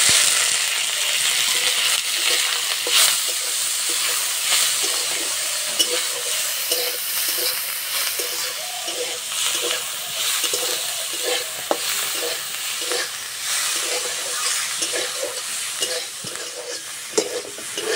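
Gugli snails fry in hot mustard oil in an iron kadai for a Bengali-style curry, a loud continuous sizzle broken by repeated scraping stirs of a spatula.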